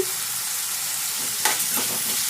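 Tomatoes cook with salt in a pan with a soft, steady sizzle, and a few stirring scrapes come in about halfway through. The sound is close and has no talk.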